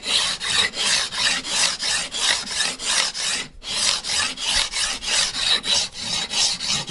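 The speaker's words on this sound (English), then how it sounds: "Oh, it sounds a lot different now. It's the fine file." A fine file rasps back and forth across guitar frets to level them, an even run of about two dozen close, bright strokes with one brief pause partway through.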